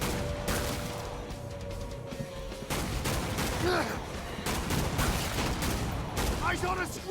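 Rapid gunfire in the horror shooter Killing Floor 2, a dense run of loud shots and bursts with sharp cracks throughout, under busy game action and effects.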